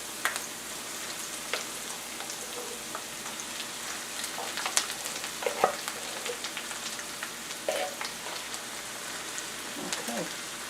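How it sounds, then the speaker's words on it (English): Spinach sizzling and frying in a pan with garlic, a steady crackling hiss with scattered pops and occasional stirring scrapes, close and fairly quiet. "You don't want to burn the garlic, so we're going to add in the spinach now"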